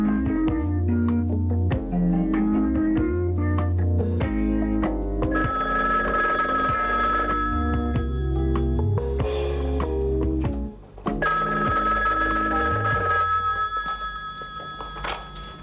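A telephone rings repeatedly over a loud, dense music bed in a dramatic scene from an Algerian film, the bell tones sitting prominently throughout with no talk.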